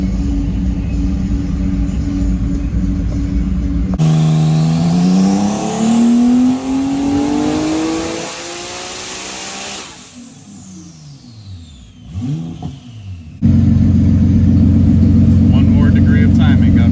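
A Nissan R35 GTR on a dyno roars through a hard rising rev pull, climbing steadily in pitch before cutting off, with loud engine noise and talk around it.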